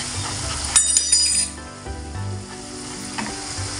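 Fish curry (chepala pulusu) being stirred in a pan, with a steady sizzle underneath and a few sharp scraping and clinking strokes of the spoon near the start, then a softer simmering bubble.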